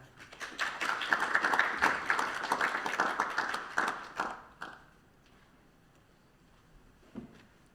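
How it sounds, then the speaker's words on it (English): An audience at a Pacific conference applauds to welcome a professor to the stage. Brisk clapping swells, holds for about four seconds, then thins and fades to near silence, with one stray clap near the end. "could you please join me in giving a big round of applause for Professor Joanna Chan Mao"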